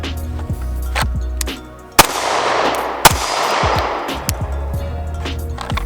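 Two sharp pistol shots from an STI Staccato C about a second apart, loud and close with a ringing decay, amid outdoor range noise and scattered softer impacts.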